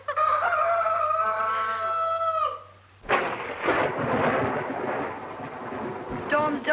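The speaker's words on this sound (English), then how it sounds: "Storm's just as bad as ever, isn't it? Worse." A thunderstorm in a 1932 film: after a sustained, tonal vocal sound, a sudden loud crack of thunder breaks out and rumbles on heavily for several seconds.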